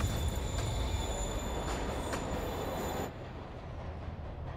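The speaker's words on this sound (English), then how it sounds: "Train moving." A moving train in the Marvel's Spider-Man video game rumbles and rattles close by, with rhythmic wheel clacks and high squeals before the sound drops quieter about two-thirds in.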